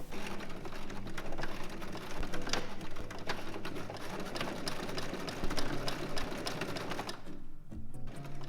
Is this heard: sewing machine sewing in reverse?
yes